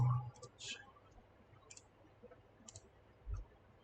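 Faint, sharp mouse clicks in RobotStudio while setting up a controller, a few scattered soft ticks over a quiet background.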